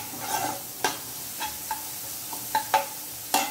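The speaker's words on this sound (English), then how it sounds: "And then we'll add the onion, finely chopped onion. And quickly saute it." Finely chopped onion sautés quickly in a pan, a low sizzle punctuated by several distinct clicks and scrapes of a spoon against the pan, near and moderately quiet, no speech.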